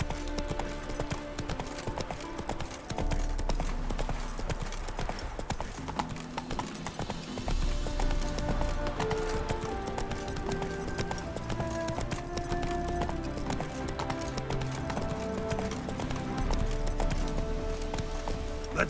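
Roach, the Witcher's horse, trots along with an even, continuous clip-clop of hooves, set against music and ambient game sound, with a brief snort or whinny in places.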